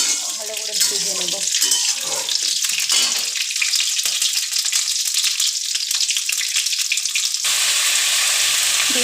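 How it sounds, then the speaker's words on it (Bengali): Eggplant pieces frying in hot oil, a steady broadband sizzle that fills the whole stretch and brightens into a harsher, louder hiss near the end. "এবার বেগুনটাকে আমি ভালো করে ভেজে নেব।"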